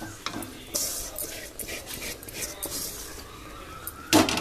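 Grated coconut stirred in a pan with cardamom for a Tamil coconut sweet (thengai paarai), heard as scraping, stirring scuffs and light clatters of the utensil against the pan, ending in a louder knock.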